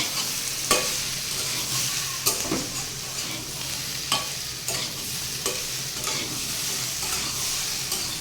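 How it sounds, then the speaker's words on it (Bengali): Vegetables and okra stir-fried in a pan over low heat, a continuous close sizzle punctuated every second or so by scraping strokes of a spatula against the metal. "দেখুন সবজি কষানোটা কত সুন্দর হয়েছে"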